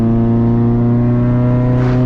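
A modified engine in a VW Mark IV-era car idles loudly with a deep, steady harmonic drone, swelling slightly near the end as if blipping toward a rev, with no talk over it.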